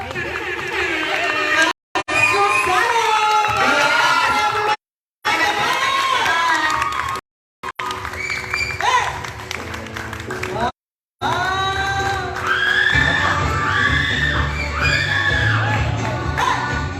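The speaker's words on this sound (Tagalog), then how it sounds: "bigyan po natin ng masagabong palakpakan ng ating bagong kasala" Wedding guests clap and cheer for the newlyweds in a lively reception hall, a loud, continuous burst of applause mixed with shouting voices and excited children, broken by a few brief dropouts, with talk over it.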